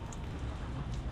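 Steady outdoor rain in Mumbai makes a dense, even hiss of drops on surfaces, continuous and moderately loud for about a second with no voices.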